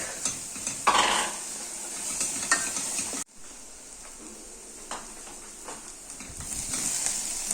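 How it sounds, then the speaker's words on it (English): Onions and garlic sweat in butter in a pan for a lemon butter sauce, with close stirring scrapes and a light sizzle, a brief clatter of utensils and a sudden drop partway through. "then I'll add some onions to be sweating. Then some garlic."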